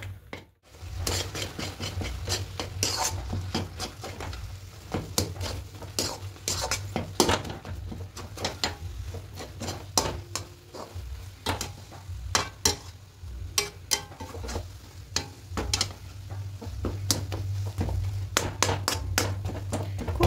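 Rice flour being mixed and dry-roasted in a pan for doodh puli pitha, with a spatula scraping and clinking steadily against the metal over a low, constant burner hum, close and without talk.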